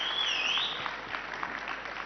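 A crowd at an Ideas of India 2025 event for a singer claps steadily, and a loud rising-and-falling whistle cuts through at the start before the applause carries on alone.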